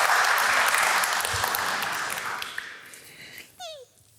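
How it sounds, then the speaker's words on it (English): Audience applause for a speaker at a talk on U.S. midterm elections, a dense crowd clapping that starts loud and steadily fades over several seconds, ending with a brief whistle-like tone near the end. "may I ask you to give an applause for Matt Meyer"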